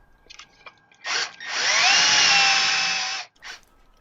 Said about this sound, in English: take my number 7 drill, put some cutting oil on it, and drill the tap hole